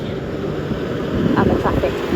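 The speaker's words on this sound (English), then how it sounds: "Not sure if you can hear what I'm saying because it's so windy." Strong outdoor wind buffets the microphone during a horseback hack along a main road, a steady low roaring rumble that grows heavier and gustier in the second half, with faint traffic-like noise underneath.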